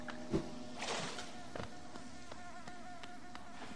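Bees buzz in the video game Hollow Knight, a steady insect drone that carries through the whole stretch with a brief thump near the start, no talking over it.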